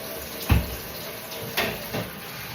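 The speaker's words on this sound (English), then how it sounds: "Right, let's run this water off." Water runs from a tap into a sink as a steady hiss, with a few clunks and splashes on top, close by and fairly quiet.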